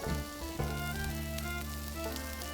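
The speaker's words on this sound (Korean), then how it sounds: "팬이 충분하게 달궈지면 양파를 넣어 주시고 다음 볶아 주시면서" Onions stir-frying in a hot dry pan with no oil, a steady sizzle and faint scraping running unbroken throughout, close and fairly quiet, with no voices.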